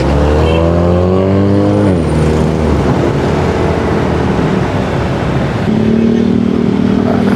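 Road traffic passing on a street in Pasig, Philippines, a loud, steady engine drone with a vehicle's pitch sweeping down as it goes by, then continuing rumble and hiss close to the microphone.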